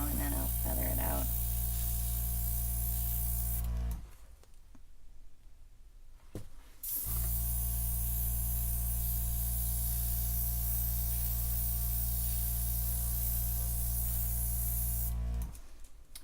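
Airbrush blowing a steady hiss of air over poured acrylic paint to push and feather it, a loud continuous spray with a short pause in the middle before the air resumes.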